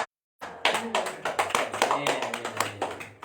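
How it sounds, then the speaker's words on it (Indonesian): An audience claps for a speaker at a gathering, a quick burst of close, uneven hand claps starting after a brief silence, with voices mixed in. "Tepuk tangan untuk Bapak."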